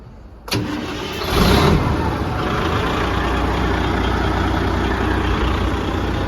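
A 1994 Spartan fire truck's Detroit turbo diesel engine cranks briefly, catches and roars up, then settles into a steady, loud, rumbling idle.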